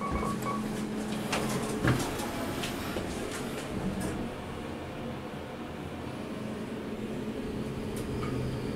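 A Kone MonoSpace elevator at the Slieve Donard Hotel in Newcastle travels downward with a steady low mechanical hum and rumble. A few faint clicks and knocks come early in the ride.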